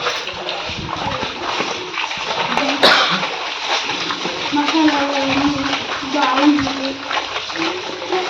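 Cut chicken pieces for a pickle being washed by hand in water, giving continuous splashing and sloshing with a few louder splashes, while a person talks over it.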